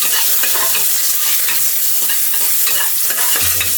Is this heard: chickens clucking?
no